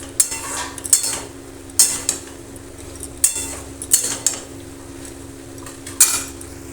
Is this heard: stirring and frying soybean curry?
yes